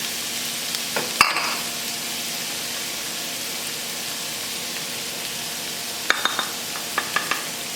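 Garlic, onions and spices frying in a pan for beef turnovers, a steady hiss of sizzling with a few sharp spoon clatters near the start and a cluster of light taps toward the end.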